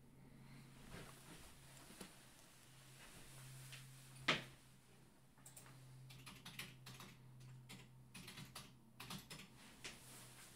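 Words typed on a computer keyboard to enter a code while setting up a Passport hardware wallet, with quiet scattered key clicks, one sharper knock, and denser tapping in the second half over a low hum.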